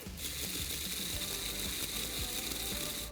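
Homemade edible glitter is ground in a machine, giving a loud, continuous mechanical grinding and rattling with a steady whir throughout.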